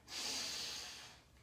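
One deep inhalation through the nose during a floor stretch, a soft, close breath that swells quickly, holds and then tapers off over about a second.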